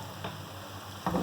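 Whole garam masala of black cardamom, cinnamon pieces, cloves and black peppercorns crackling in hot oil, a soft steady sizzle with brief louder pops at the start and end.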